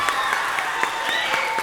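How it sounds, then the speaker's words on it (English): A group of students in an interactive music session applauds together, a steady wash of fairly even clapping with a faint tonal hum running beneath it. "Give yourselves a round of applause"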